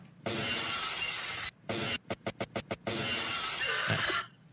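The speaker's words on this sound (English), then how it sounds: "Give me the Stone Cold glass break" Stone Cold Steve Austin's glass-shatter entrance cue, a loud burst of breaking glass that cuts out briefly, then returns as a string of rapid, evenly spaced smashes before one long crashing tail that ends abruptly.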